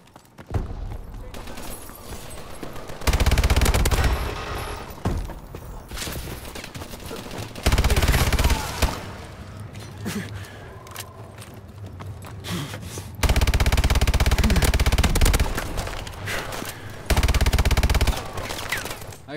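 Loud automatic bursts from the player's gun in Call of Duty Advanced Warfare, several long sustained volleys separated by short gaps, with a voice talking between and over the shooting.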